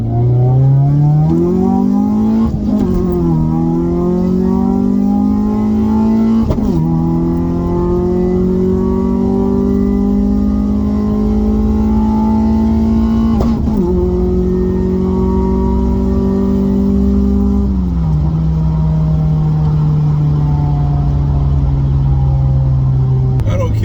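A turbocharged F23A engine in a budget Honda Civic revs steadily upward through several gear shifts during an acceleration pull, loud and close, the pitch climbing then dropping at each change.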